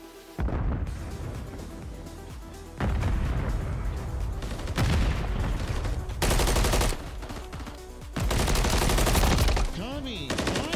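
Rapid automatic gunfire rattles through a Call of Duty esports match, with repeated loud bursts of several seconds separated by short quieter gaps.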